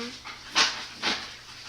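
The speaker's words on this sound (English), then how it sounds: "Sorry about the background noise." A dog plays and runs back and forth through an indoor room, giving two brief, soft bursts of scuffling and panting close by against a quiet background.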